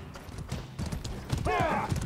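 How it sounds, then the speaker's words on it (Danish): Hooves of a mounted soldier's horse in the video game Mordhau, a rhythmic clip-clop under a man's speech, with a short horse whinny near the end amid battle noise. "Tuller med meg en soldat på hesten."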